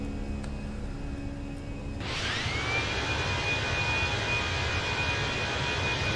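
Airbus A320 jet engines climb out of Edinburgh in Microsoft Flight Simulator 2020, a low rumble that swells abruptly into a loud, steady roar with a sustained high whine that holds to the end, with no one talking.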